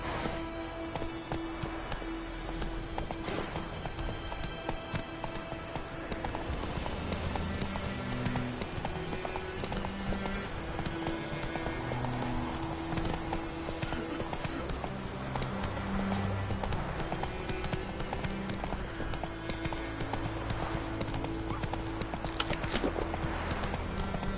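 Roach the horse gallops in a video game, with loud, steady clip-clop hoofbeats continuing throughout over a dense bed of game music and ambience.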